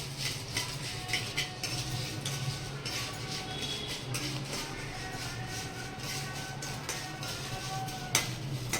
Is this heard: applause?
no